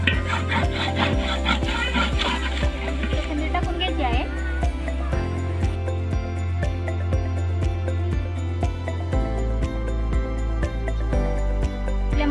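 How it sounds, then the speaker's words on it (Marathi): A spoon stirs village-style mutton masala with onion-garlic spice paste in oil in a pan, making steady rhythmic scraping and rubbing strokes close by, with a voice partly audible beneath. "आता आपल्याला हे तेल सुटेपर्यंत व्यवस्थित असं हलवून घ्यायचं आहे."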